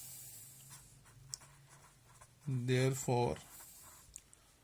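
Chalk or a marker scratches across a board during a maths lecture on variations: light, intermittent writing strokes close by, with a brief spoken phrase in the middle.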